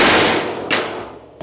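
Hammer blows on welded metal of a jet boat hull: a single loud, sharp metallic strike at the start, followed by two more clanging impacts, close by and alone.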